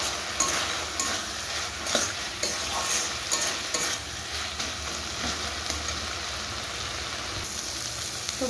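Loitta fish with green chilli frying in a pan, a steady close sizzle with frequent stirring scrapes and clinks throughout, no talking.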